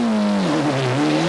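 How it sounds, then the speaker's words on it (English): A rally car, number 2 driven by Aghini, pulls away into the night at the 1995 Ypres 24 Hours Rally in Belgium, its engine note holding loud and steady before dropping as it shifts and drives off. "away back into the night goes car number 2"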